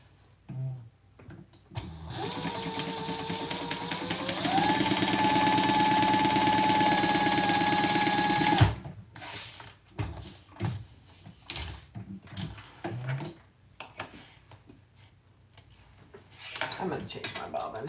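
A sewing machine motor whirs steadily for about seven seconds, its pitch climbing partway through before cutting off abruptly; handling noises and intermittent talk follow.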